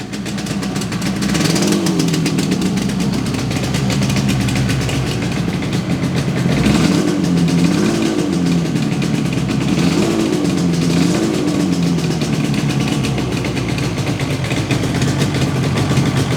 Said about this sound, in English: So this is a cold start up on an RD250.